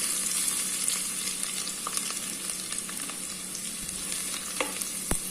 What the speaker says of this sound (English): Now I have reduced the flame. Now we will put first the crushed garlic.